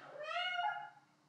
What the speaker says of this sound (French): Le chat que j'ai enfermé dans les combles sans faire exprès